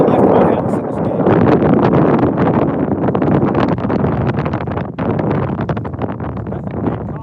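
Loud, constant wind roaring and buffeting across the microphone on a boat, a broad rushing noise with gusty fluctuations and no speech.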